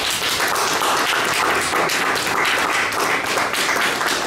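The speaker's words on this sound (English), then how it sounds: "give him a round of applause." Audience at a repatriation and investment conference in Ghana giving a round of applause, with steady, loud, dense clapping from a crowd and no speech on top.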